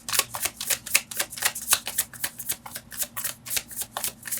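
Tarot cards are riffled and shuffled in a fast, even rhythm of crisp papery flutters, close and fairly loud, with no one talking.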